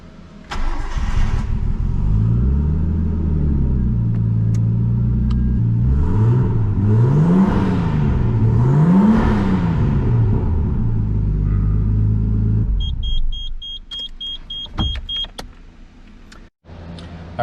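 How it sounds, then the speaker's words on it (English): A Nissan Skyline R32 GTST starts up and idles, then its exhaust revs in three rising and falling sweeps before the engine cuts off, followed by electronic chimes and light clicks. "a little sound clip of the new Skyline's exhaust"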